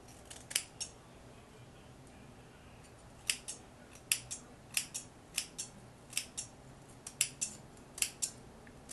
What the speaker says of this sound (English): So I'm just cutting away the excess lace now.